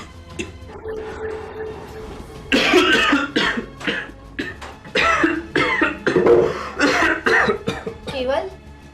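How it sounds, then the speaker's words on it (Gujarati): Man coughing heavily in repeated harsh, close bursts with throat clearing between them, loud and alone at first, then overlapping with spoken voices. "કેમ આટલી બધી ઉધરસ કેમ આવે છે તમને?"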